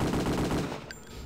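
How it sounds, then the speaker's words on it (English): Loud, close burst of rapid automatic machine gun fire from Return to Castle Wolfenstein, a fast regular stutter of shots lasting about a second before cutting off. "I am down every single fucking bullet into him."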